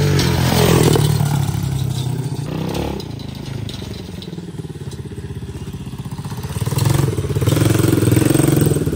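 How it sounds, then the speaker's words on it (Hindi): A modified dirt bike engine in a video game revs hard and loud for the whole stretch, rough and clattering, dipping in the middle and then surging again to a strong roar. "अब तो और खतरनाक चल रही है डर्ट बाइक"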